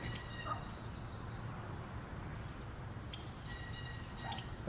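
Honking, goose-like bird calls ring out over water near a weedy shoreline at Long Sault, a short burst early and another later, moderately distant above a low, steady background hum.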